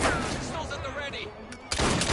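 Pistol gunfire in Assassin's Creed Syndicate, a few sharp shots over game background noise, with a voice briefly under the bursts.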